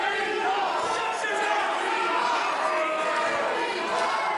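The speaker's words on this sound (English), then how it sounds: "This crowd fired up for Cherry" A crowd at a Canadian Wrestling Coalition show in July 2018 cheers and roars continuously, a dense, loud wash of voices with a commentator faintly audible beneath.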